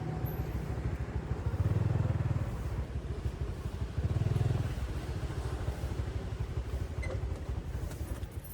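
A motorbike engine idles close by with a throaty, rapid putter, briefly swelling twice as the throttle rises, then settling back.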